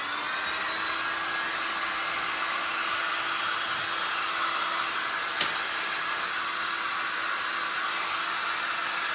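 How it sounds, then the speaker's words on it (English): A handheld heat gun runs in a steady, even blowing hiss over small wet resin art pieces, close and fairly loud, with a brief tap partway through and no talking. "I'm gonna hit these real quick, 2 seconds with my heat gun because they're still a little wet"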